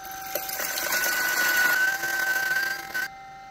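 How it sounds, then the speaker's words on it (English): A coffee grinder set finer grinds espresso beans with a loud, steady mechanical whine lasting about three seconds, then cuts off abruptly into a quiet hum. "So we went finer on the grinder, but the same weight."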